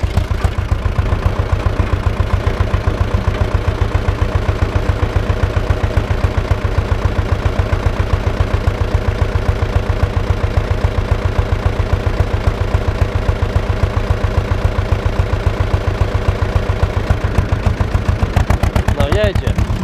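An Ursus farm tractor, either a C 325 or C 360, runs its engine with a steady low rhythmic chug while a trailer is hitched to it, holding a loud and even level throughout.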